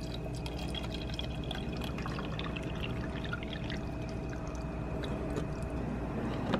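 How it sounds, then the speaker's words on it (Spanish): Water streams continuously into a single-serve coffee maker, a close, steady splashing pour with a dripping, gurgling texture and no talk. "Le voy a agregar el agua."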